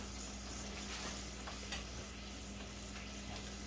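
Aromatics sautéing lightly in a pan, a quiet even sizzle with a low steady hum beneath and a couple of faint stirring taps, no voices.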